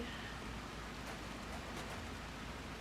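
Rain in the video game RimWorld: a faint, even, steady hiss of falling rain that continues without pause through the short clip.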